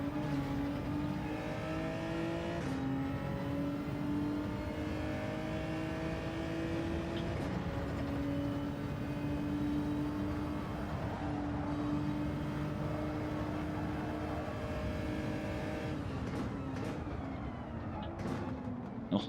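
A Toyota Supra's engine drones steadily in Gran Turismo 7 highway racing, holding a sustained tone that rises and falls gently through the gears with no break.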